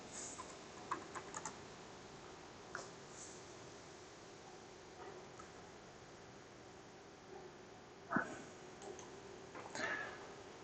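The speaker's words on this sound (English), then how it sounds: "I will type the password." Keys tapped on a computer keyboard while a password is entered in a networking lab, sparse faint clicks in a few short bursts over steady background hiss, with a louder cluster of taps near the end.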